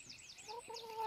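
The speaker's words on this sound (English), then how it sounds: "Oops, chicken's going a bit crazy." A chicken clucks and squawks excitedly nearby, a short burst of quick rising calls and a sustained squawk, fairly faint, with no talking.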